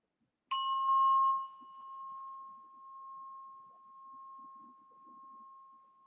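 A single meditation bell strikes and rings out, a clear sustained ring slowly fading over several seconds in an otherwise quiet space.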